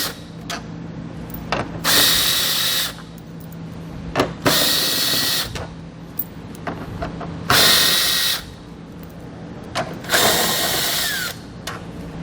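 A power tool whirs in repeated bursts while backing out 10mm bolts from the front of a 2020 Ford Fusion, loud and close, each burst lasting about a second with pauses and clatter between.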